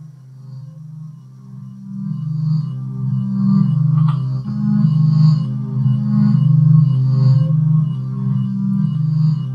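A home-built Buchla synthesizer patch split into a Buchla 295 module gives a dense, wavering low drone whose pitches shift and pulse gently, fairly loud and continuous with no voices.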